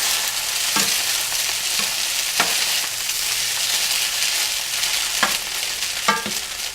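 Homemade noodles with eggs are tossed in a hot frying pan, giving a steady close sizzle with several sharp metallic clanks of the pan and utensil scattered throughout.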